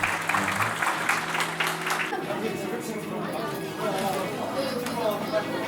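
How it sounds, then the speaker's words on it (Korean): Applause from a school audience at a youth football team event, dense clapping in the first two seconds that thins out into crowd chatter and talk. "박수 부탁드립니다."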